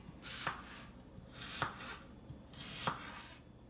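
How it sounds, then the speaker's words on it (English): A knife cuts through a Fuji apple on a board in three separate close strokes, each a short crisp crunch, with quiet pauses in between and no voices. "So I'm just going to cut the apple in half and then just cut it into nice slices."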